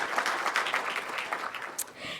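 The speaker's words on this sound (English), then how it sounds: "Let's give her a great round of applause." Scattered audience applause at a development industry business forum, fairly quiet and crisp with clap bursts spread across a couple of seconds, with possible faint voices beneath.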